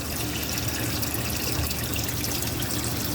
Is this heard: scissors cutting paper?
no